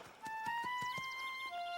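A cartoon pony clip-clops in a steady run of hoofbeats and gives a whinny, close and fairly loud, with sustained tones running underneath.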